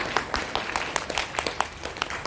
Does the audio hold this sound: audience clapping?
yes